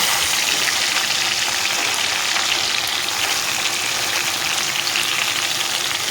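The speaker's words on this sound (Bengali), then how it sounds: "তো টমেটোটা একটু হালকা ভেজে নেব" Chopped tomatoes frying lightly in a pan for a vegetarian mung bean curry, a steady close hiss and sizzle with no pauses or talk.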